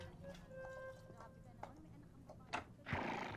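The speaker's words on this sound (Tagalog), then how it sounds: "Kabayo! Kabayo ba daw?" A horse neighs in a comedy movie scene, its whinny rising early on beneath music and shouting voices, with sharper hoof-like thumps and a louder burst near the end.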